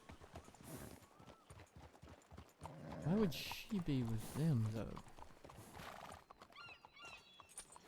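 Horse hooves clip-clop at a steady walking rhythm under conversation between several people, with a horse whinnying loudly partway through.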